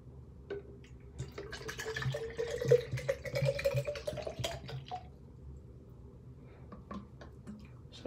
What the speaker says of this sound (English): And then this one, I'll take off the lid